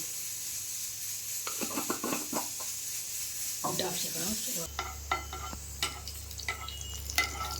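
Cumin seeds crackle and sizzle in hot oil in a kadai while paneer curry is being made, with intermittent stirring scrapes over a steady frying hiss, close and fairly loud, and a low hum joining partway.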